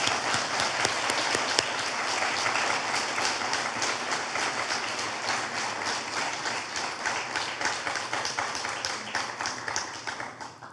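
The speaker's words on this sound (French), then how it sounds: "Je vous prie d'applaudir nos dignitaires." An audience at an awards ceremony applauds dignitaries, a sustained dense wash of clapping from many hands in a hall that holds steady and then thins toward the end, with no voices over it.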